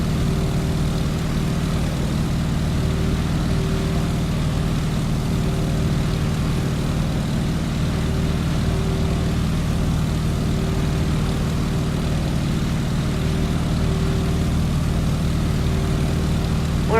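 A Stearman biplane's propeller engine drones steadily and loudly throughout, a constant low, even hum with no voices, in the Microsoft Flight game.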